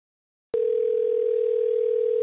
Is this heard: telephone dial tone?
yes